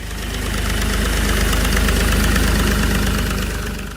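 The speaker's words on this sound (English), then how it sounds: "The engine doesn't roar, it hums." A Massey Ferguson 135 tractor engine runs with a steady, loud, close hum and a fine rhythmic knock, holding an even level for the full four seconds with no voices.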